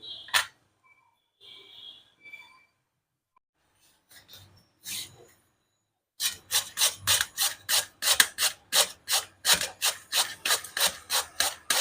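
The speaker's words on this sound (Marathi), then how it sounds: "आता भोपळा किसून घेऊ" Bottle gourd is grated by hand on a grater, first a few scattered scrapes and pauses, then a fast, even run of loud rasping strokes close by, with no speech.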